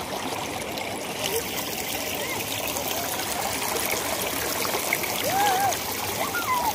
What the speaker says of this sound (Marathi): पाणी एकदम निघतलं आहे.